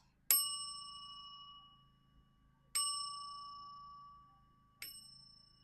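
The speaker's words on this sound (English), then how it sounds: "We're going to be hitting the chakra bell." Three separate strikes on a chakra bell, each giving a bright metallic ding that rings out and slowly fades before the next. Clear and close in a quiet room.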